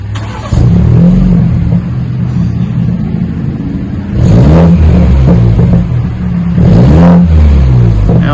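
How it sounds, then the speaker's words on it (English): A 2020 BMW with its rear muffler deleted revs hard, its exhaust rising in two loud throaty bursts over a steady rumbling idle, close to the tailpipe. "Let's hear it rumble."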